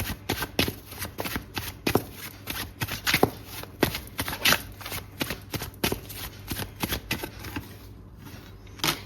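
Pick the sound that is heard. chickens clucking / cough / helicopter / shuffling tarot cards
shuffling tarot cards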